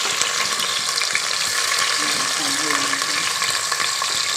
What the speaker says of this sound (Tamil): நம்ம வெங்காயம் சேர்த்துக்கலாம்